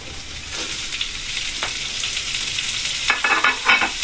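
Bean sprouts sauté in the leftover oil from frying tofu, a steady close sizzle with bursts of crackling and stirring scrapes, no voices.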